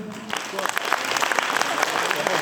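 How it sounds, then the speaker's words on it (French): A theater audience claps loudly and steadily at a dance show set to Naatu Naatu, the dense applause starting after a brief quiet moment and continuing evenly to the end. "je vous demande d'applaudir s'il vous plaît"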